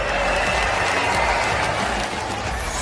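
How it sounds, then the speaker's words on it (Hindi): A loud wash of audience applause at a celebration program, dense and continuous clapping with a sustained hiss-like texture and no clear individual claps. "तो हो जाए जोरदार तालियां।"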